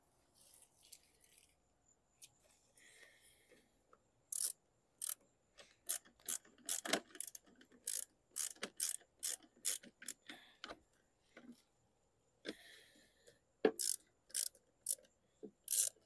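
Phillips screws driven into the cover of a 2012 Craftsman Platinum 7.25 mower, heard as quiet, rapid ratcheting clicks in irregular bursts against near silence.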